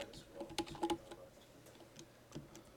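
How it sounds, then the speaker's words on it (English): Quiet clicking of a computer keyboard as commands are typed, a brief cluster of key taps followed by a few scattered clicks, faint and close, with no speech. "You can actually see the commands I'm typing."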